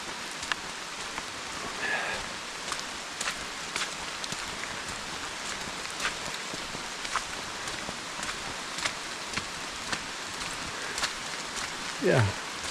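Steady rain patters on leaves and ground beside a flooded creek on a rainy-day hike, a constant broadband hiss with scattered nearby drops and brief rustles throughout.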